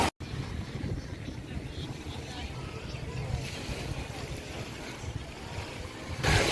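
Boat ride on open sea off Boracay, a continuous low engine rumble with wind buffeting the microphone and water rushing past, moderately loud and steady.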